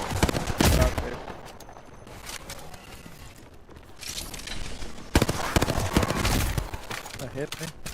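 Rapid bursts of Prowler submachine gun fire in Apex Legends, loud and close in two clusters around the start and the second half, with a quieter stretch between and voices talking over the action.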